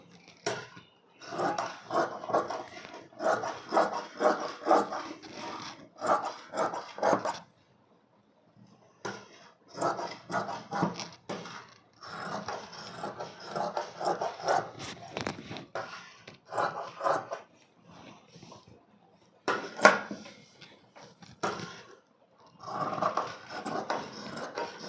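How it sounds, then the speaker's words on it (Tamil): Scissors snipping through blouse fabric in bursts of crisp, close cuts, with short pauses between runs of snips; no talking. "ஓகே ஃப்ரெண்ட்ஸ், வாங்க இதை கட் பண்ணிக்கலாம்."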